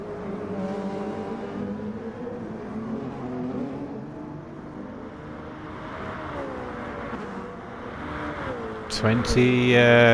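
Race cars with engines droning and revving while running closely together, a steady mid-distance motor hum with shifting pitch, under continuous commentary, louder toward the end.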